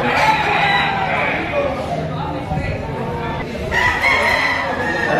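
A rooster crows loudly nearby while someone talks over it, with other fowl clucking in the background, at a chicken market in Padre Garcia, Batangas.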